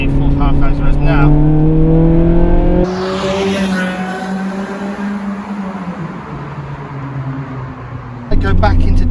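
A car fitted with a Japspeed single exit exhaust revs hard, its engine note climbing steadily in pitch, then easing off and dropping away, loud and close throughout, with brief bursts of noise at the start and end.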